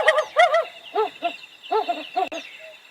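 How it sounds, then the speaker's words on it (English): A recorded bird call is played aloud during a sunrise safari broadcast: harsh, clipped calls come in short bursts and pairs with brief gaps, fairly loud and clear, with no talk over them. "I'm going to play the bird call."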